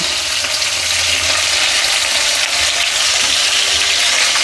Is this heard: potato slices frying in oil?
yes